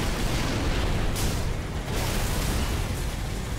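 A sustained, heavy explosion rumble from Halo: Reach fills the scene, loud and dense throughout, with a couple of brief bursts swelling over the roar.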